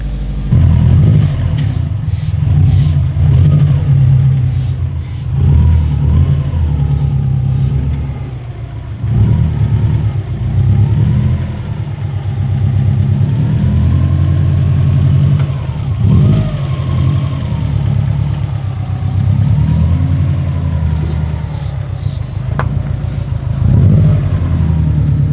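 A Subaru WRX STI turbo engine runs steadily nearby, a deep, throaty idle rumble with a few gentle revs swelling and settling, continuous and with no voices.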